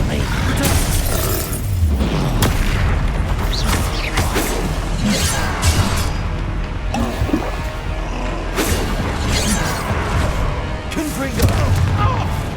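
Fiery Confringo explosion spells going off in Hogwarts Legacy amid a dense, loud game soundscape of repeated bursts, booms and clattering effects, with a voice talking over the action.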